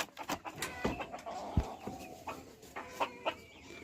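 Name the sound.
hens clucking in a coop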